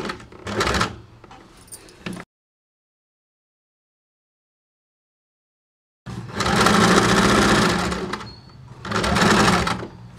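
A sewing machine stitches the neckline of a designer blouse in slippery fabric, running in three loud close bursts with a long silent pause between the first and second.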